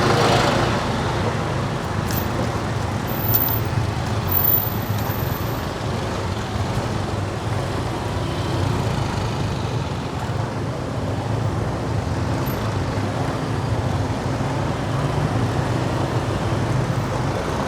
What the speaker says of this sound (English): Okay, this is a Sunday, and traffic is somewhat abundant.